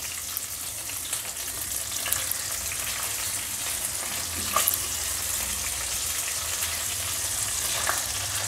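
Pabda fish fry in hot oil, a loud, dense, steady sizzle close by with occasional sharper pops and spatters.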